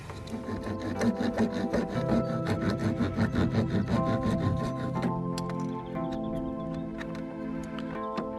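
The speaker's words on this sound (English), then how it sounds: "now it's just a case of cutting it, and I'm using my trusty Leatherman" A Leatherman multi-tool cuts through material for a caravan wheel arch cover in a rapid series of rasping saw-like strokes, close and steady, with a ringing tonal hum running underneath and no talking.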